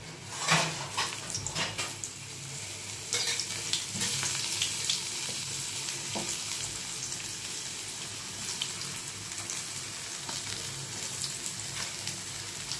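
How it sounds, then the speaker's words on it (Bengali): Spiny gourd (kakrol) slices frying in a pan over a low flame, giving a steady, close, continuous sizzle with occasional crackles and clinks and no talking. "লো ফ্লেমে কিন্তু ভাজবো"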